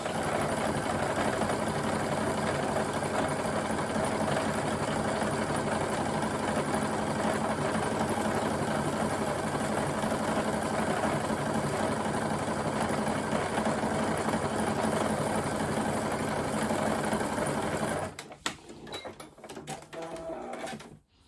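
A sewing machine sewing a triple stretch stitch on jersey fabric, a loud, close, steady mechanical drone that runs unbroken for most of the time before cutting out into a few handling clicks.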